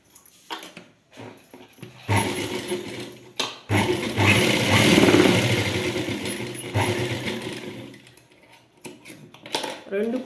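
A sewing machine stitches a seam in fabric, whirring in bursts of a few seconds with pauses between, while someone talks over and between the runs.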